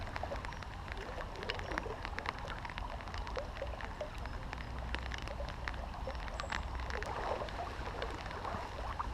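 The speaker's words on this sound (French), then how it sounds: "Il commence à bien pleuvoir en plus." Rain falls steadily on a wide river, the Charente, during a fishing trip. It makes a faint, even hiss with scattered soft patters that continue without a break, with no voices.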